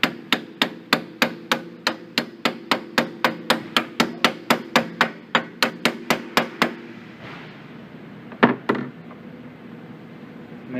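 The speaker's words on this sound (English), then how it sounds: "with a hammer ever so gently on the outside of the race." Rapid, evenly spaced metallic hammer taps on the outer race of a Polaris Ranger front wheel bearing, about two dozen in a steady rhythm, then a pause and a couple of louder, heavier strikes near the end.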